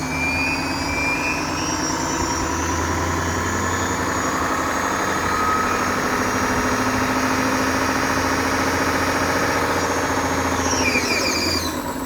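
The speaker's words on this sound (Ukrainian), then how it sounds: "Колесо можливо розкрутити до понад 80 км за годину." Wheel spinning machine rotating a car wheel at over 80 km/h, a steady loud motor whine and hum held constant throughout, with no voices.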